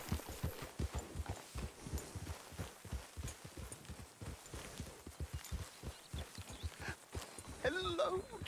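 Rhythmic hoof clip-clops from a horse at a walk in the video game Red Dead Redemption II, steady throughout, with a voice speaking briefly near the end.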